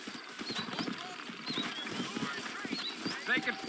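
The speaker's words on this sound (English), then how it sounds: "You ain't gonna find sturdier horses than these in all of New Ulster." Steady hoofbeats of trotting horses clip-clop throughout in Red Dead Redemption, with someone speaking over them and a brief whinny near the end.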